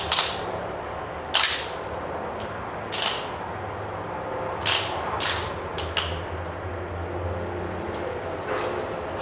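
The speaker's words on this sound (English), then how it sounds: "now that I've torqued down all 5 lug nuts to 60 foot-pounds, I'm going to bump it up to the final torque" A torque wrench on wheel lug nuts, set to a final torque of 110 foot-pounds, gives several sharp, close clicks at irregular intervals over a steady low background hum, with no talking.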